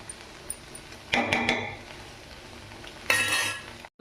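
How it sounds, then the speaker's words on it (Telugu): Okra fry gets stirred in a pan with a utensil, making two short bursts of scraping and clattering over a faint, quiet sizzle, with pauses between them. "మధ్య మధ్యలో తిప్పుకోకపోతే అడుగంటుందని తిప్పటం."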